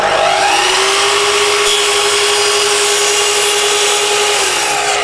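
Circular saw set about two millimeters deep making a shallow scribing pass in melamine board, a loud continuous close whine and rush of the blade with a steady pitch throughout, no voices.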